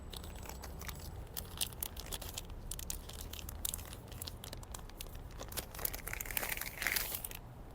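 A new wiper blade for a 2019 Subaru Outback is pulled from its plastic bag, giving close, continuous crinkling and crackling with sharp rustling bursts throughout and no talk.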